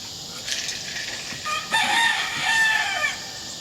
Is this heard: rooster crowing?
yes